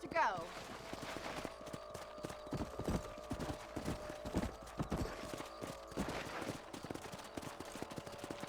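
Horse hooves clip-clop steadily through a ride in the Red Dead Redemption video game, a continuous trotting rhythm under background music and talk, with a whinny near the start.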